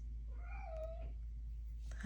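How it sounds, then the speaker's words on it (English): An indoor cat gives a single close, rising-and-falling meow over a low steady hum, followed by quiet and then a short thump at the very end. "Sorry if you can hear my cat."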